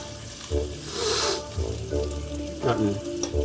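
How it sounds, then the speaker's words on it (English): Shrimp and vegetables sizzle loudly in hot oil, with bursts of stirring and tossing in the pan, close up and without speech. "stir frying shrimp and a couple different types of vegetables in oil"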